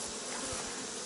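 Dense, steady buzzing of honey bees crowded on a brood frame, close and continuous throughout with no talk.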